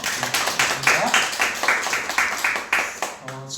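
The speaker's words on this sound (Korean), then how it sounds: "우리 같이 한번 감사의 박수 한번 할까요?" A church congregation claps together in thanks, a string of sharp, evenly spaced claps at close range with a voice faintly present between them.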